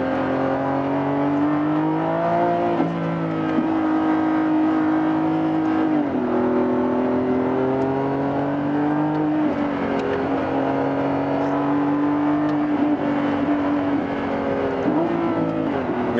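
A 1015-horsepower Lamborghini Revuelto engine revs hard and close, its loud sustained wail holding high revs and dipping sharply at each of several gear changes before climbing again, with no talking.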